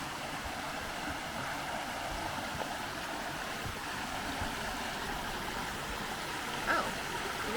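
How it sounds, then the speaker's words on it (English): A small creek flows in Blackwater Falls State Park, a steady, close rush and babble of water running unbroken throughout, with a brief faint knock near the end. "Got a nice little creek here."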